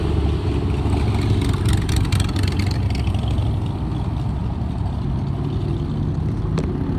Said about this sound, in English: That one definitely was turbocharged, that truck. It sounded like a jet turbine